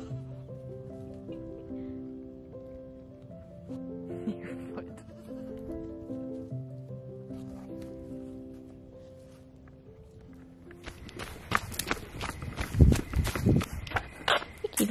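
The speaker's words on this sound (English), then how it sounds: "See the baby goats?" Baby goats bleat in a string of drawn-out, wavering cries, then footsteps and rustling noise rise up close toward the end.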